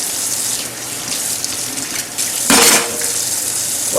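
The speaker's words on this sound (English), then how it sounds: "I hate washing dishes." Dishes clink under a steadily running kitchen tap, water rushing loudly throughout with a brief surge of splashing partway through.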